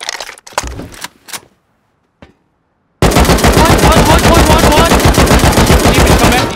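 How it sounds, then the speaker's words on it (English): Gunfire in the video game Rust: after a few faint sounds and a brief silence, a sudden loud, sustained burst of rapid automatic shots fills the rest of the clip. "I hear gunfire."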